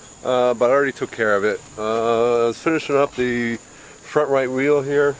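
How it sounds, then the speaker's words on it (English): A faint, steady high-pitched beeping tone runs continuously in the background of a car brake replacement at the front right wheel, while someone talks over it. "Sorry for the beeping in the background."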